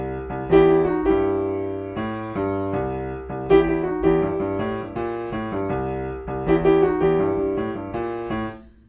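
A piano riff fitting bars 9 to 12 of a tune, played alone at a steady medium tempo with repeated chordal hits, an active left-hand bass line and a melody on top, ringing clearly with no talk.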